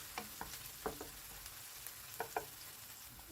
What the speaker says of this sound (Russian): Кладем лук и обжариваем приблизительно 3-4 минуты.